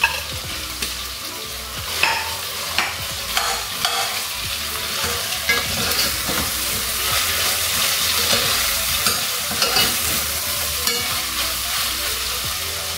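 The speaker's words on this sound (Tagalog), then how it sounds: "Then kapag nag-golden brown na yung garlic, sabay na natin yung tomatoes and onion." Garlic, tomatoes and onion sautéing together in a pan for ginisang monggo with chicken, a loud, continuous sizzle broken by repeated scraping and stirring knocks, close up with no voices.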